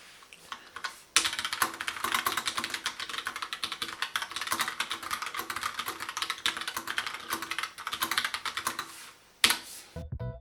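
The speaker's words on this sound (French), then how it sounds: "Voici un petit extrait du son du clavier." Fast, continuous typing on a colorful Logitech POP Keys keyboard, with dense clicky keystrokes rattling close up for several seconds before a brief pause and a final burst.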